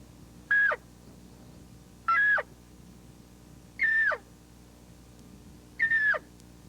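Four drawn-out, pleading calls imitating a lost elk cow trying to rejoin the herd, made with a caller, each a high whistle that slides down, spaced about two seconds apart, close and clear.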